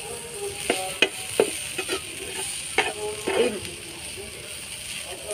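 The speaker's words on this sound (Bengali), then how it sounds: "পেঁয়াজ, টমেটো আর ধনের গুঁড়োটা একটু ভেজে নিচ্ছি" Onion, tomato and coriander powder frying in a little oil for egg do pyaza, a soft continuous sizzle broken by several distinct clinks and scrapes of a spoon stirring the pan, close and moderately loud.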